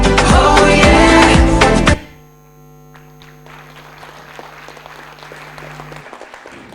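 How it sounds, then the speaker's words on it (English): Loud audience applause for about two seconds that cuts off abruptly, leaving a steady electrical hum and faint scattered noise. "A big round of applause for Swizzle Furtado."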